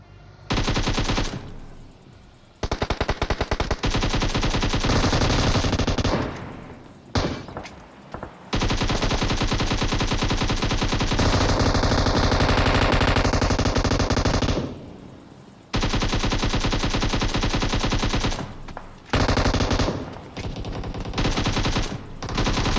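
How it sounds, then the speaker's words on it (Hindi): M249 machine gun fire in a PUBG Mobile match, long loud sustained automatic bursts separated by short pauses, with dense rapid shots throughout. "M249 से प्री फायर दे दिया"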